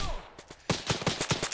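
A rapid volley of about six or seven close gunshots bursts out in a video game shootout, following a brief quieter stretch.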